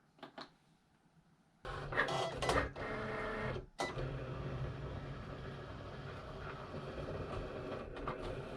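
Vinyl cutter slicing Siser Stripflock heat transfer vinyl starts after a short quiet, a steady close mechanical whirr with rapid clicking carriage moves and a brief pause before cutting resumes.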